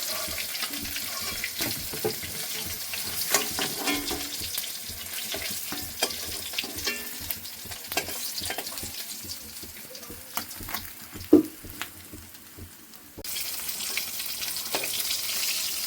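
Pieces of rohu fish fry in oil in a pan, a steady close hiss and crackle with occasional clinks and scrapes.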